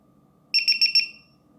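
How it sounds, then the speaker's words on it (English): A Drone Keeper Mini lost-model alarm gives four quick, shrill beeps in an even rhythm, close by in a quiet room, with the last tone trailing off briefly. "See, that's 4 beeps"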